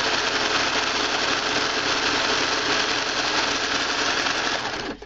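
Serger sewing machine stitching and trimming fabric for a valentine bag, a loud, fast, continuous mechanical whir that runs steadily for about five seconds before stopping abruptly.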